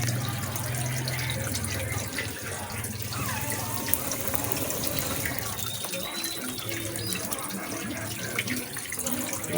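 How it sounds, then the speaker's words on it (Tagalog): Water runs steadily from a kitchen sink tap while dishes are washed after a simple provincial breakfast, a constant close splashing flow with faint clinks and no talking. "maghuhugas ko lang"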